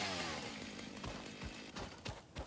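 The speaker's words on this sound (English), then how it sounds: "Think I can cut it with my chainsaw?" Chainsaw cutting in a building video game, a steady buzzing engine drone with several sharp bursts of cutting strokes, moderately quiet and with no talk.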